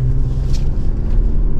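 A car drives through rain in the city of Mérida, Mexico, its low, steady road rumble continuous and close throughout, with no voices.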